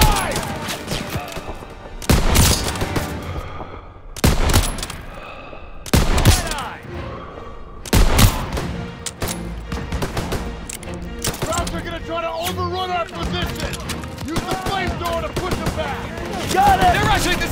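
Rapid automatic rifle and machine-gun bursts from Call of Duty: WWII, mission Stronghold, loud and close, repeated roughly every two seconds before merging into dense continuous firing while soldiers shout over it.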